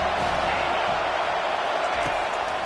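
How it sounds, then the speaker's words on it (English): Dense stadium crowd roar at a Penn State versus USC college football game, a steady loud wash of voices building on third down with no clear breaks. "Decibels rising as the crowd gets behind this defense on 3rd down"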